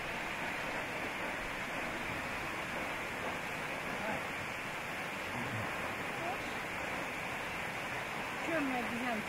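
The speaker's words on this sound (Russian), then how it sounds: "Вот и сам водопад." Waterfall in Ghana at the end of a roughly hour-long jungle trek, giving a steady, loud, broadband roar of falling water that fills the whole stretch without a break.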